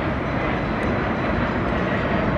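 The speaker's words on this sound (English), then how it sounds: "I'm sorry for the noise in the background because I'm at the airport, so planes are flying out, planes are landing." Jet airplanes take off and land at Atlanta airport at night, heard as a steady, loud, unbroken broadband roar with no voices.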